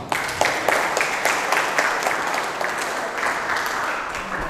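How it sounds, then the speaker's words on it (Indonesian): Dense applause from a seated audience at a school talk on leadership. Many hands clap continuously at an even loudness with no speech over it. "Tepuk tangan untuk kalian."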